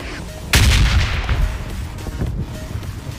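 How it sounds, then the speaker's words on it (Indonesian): A single heavy gunshot boom in the mobile battle royale game PUBG Mobile, sudden and loud, then fading into a muffled rumble. "Ada dia nembak."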